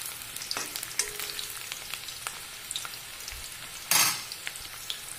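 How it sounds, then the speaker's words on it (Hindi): Chopped onions frying in a pan for chhole, a soft, steady sizzle with occasional clinks and scrapes of stirring and one brief louder rattle of the utensil against the pan, no talk. "अब हम इसे हल्का सा ब्राउन होने तक के फ्राई होने देंगे।"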